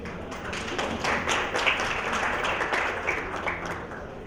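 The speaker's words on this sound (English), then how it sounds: "So please, a round of applause." A crypto expo audience applauds a speaker taking the stage, giving a steady, dense wash of clapping that holds at an even level throughout, with no talk over it.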